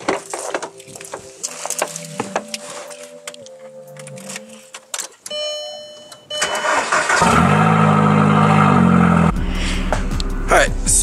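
A car with a cracking exhaust manifold cranks amid some earlier clunks and handling noises, then fires up and settles into a steady, loud idle as it warms up.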